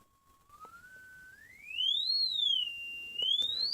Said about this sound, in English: it makes that weird starting up noise, and then it smooths out and settles into the tone you've set